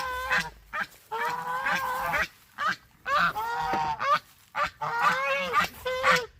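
A flock of geese honks loudly and repeatedly up close, the calls coming in a steady back-and-forth series with brief gaps.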